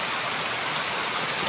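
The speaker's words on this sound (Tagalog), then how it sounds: "Lakas ng ulan." Heavy monsoon rain pouring over rice fields, a dense, loud, unbroken hiss filling the whole moment with no voices.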